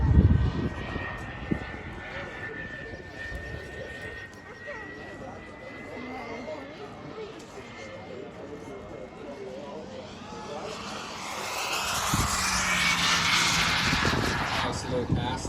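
A turbine-powered RC model jet flies at a Utah RC park, its whine faint at first and swelling louder toward the end as it makes a low pass, with a commentator talking throughout.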